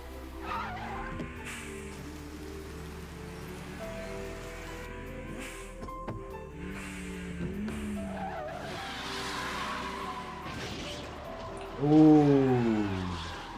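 Anime race cars, including a Nissan S13, drift with tire squeal on a mountain road, engines droning and rising through the run, ending in a loud, wavering squeal near the end.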